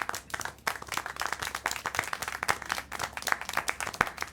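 Characters in the video game Syberia: The World Before clap in a busy, uneven patter of many hands, steady and moderately close throughout, with no talk.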